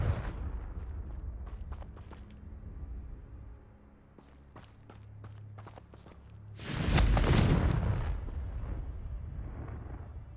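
A Confringo blasting spell explosion in the Hogwarts Legacy video game: a sudden loud booming blast with a rumbling tail, preceded by game ambience and scattered clicks and steps.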